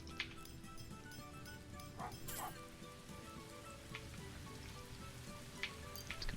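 Steady patter of rain in a forge and smelter management game, a soft continuous hiss under faint music tones, with occasional brief higher ticks and small bursts.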